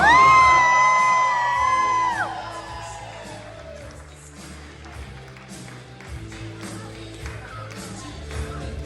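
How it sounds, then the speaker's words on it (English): Wedding guests greet the newlyweds with loud, close whoops and yells, then settle into a broader crowd of cheering and murmuring voices that fades but carries on to the end. "How about one more big round of applause for our newlyweds?"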